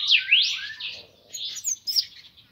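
A captive corbatita seedeater sings nearby in bright, rapid chirping phrases and trills, with short pauses between bursts.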